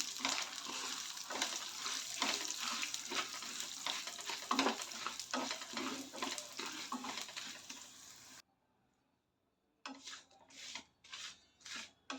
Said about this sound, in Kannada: ಇವೆಲ್ಲ ಸ್ವಲ್ಪ ಕೆಂಪಾಗೋ ಮಟ್ಟ ಹುರ್ಕೋಬೇಕು